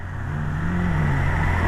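A motorbike engine held hard at speed on a forested mountain road, a steady droning roar with a rising and falling pitch, close and continuous with no talking.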